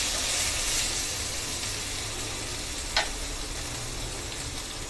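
Spiced potatoes with lemon juice sizzle softly in a pan while being stirred, a steady frying hiss with a single brief clink of the spoon partway through and no voices.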